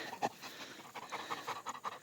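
A Malabar dog pants rapidly in quick, rhythmic breathy huffs, close but faint, outdoors while mushrooms are being gathered in the Carpathians, with no talk.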